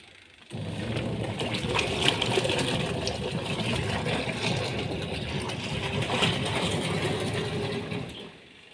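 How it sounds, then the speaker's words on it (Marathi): A home washing machine runs with a load of clothes, giving a steady, close mechanical hum and churning water sound that holds evenly for several seconds with no talking. "आता मशीनला कपडे लावले."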